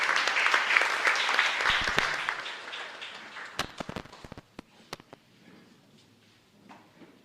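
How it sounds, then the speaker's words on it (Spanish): A church congregation at a chapel Mass in Luque claps in a dense burst of applause that fades over a few seconds into scattered individual claps, with quiet room tone after. "Fuerte aplauso para el Señor."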